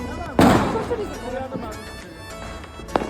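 Diwali firecrackers and rockets burst in sharp, irregular cracks, one loud and others fainter, at a family celebration in Bihar, while people talk nearby.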